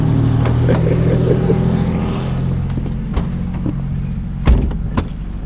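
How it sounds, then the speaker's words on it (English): A 2025 Mazda MX-5 Miata Club (ND3) heard from inside the cabin as it pulls away, a steady low engine drone and road rumble throughout, with a couple of sharp knocks or thumps near the end. "All right, hop in, I'm driving. Let's go."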